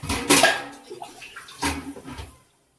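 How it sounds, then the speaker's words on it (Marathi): Water splashes into a pot for khichdi rice in two short pours close to the microphone, with a faint clink of metal between them. "आता मी 3 वाट्या पाणी घालते"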